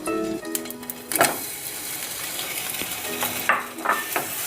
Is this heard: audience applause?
no